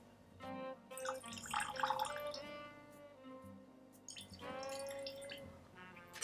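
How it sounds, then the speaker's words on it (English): Water poured in small amounts into several glasses of Scotch new make whisky, with light trickling and splashing in two separate bursts, close and fairly quiet, no talking. "So let's have a little pour of water in each of them."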